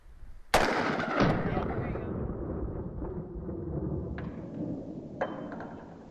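A handgun shot strikes a portable shelter, one sharp loud crack with a long fading rumble, then a second lighter impact and two faint distant knocks.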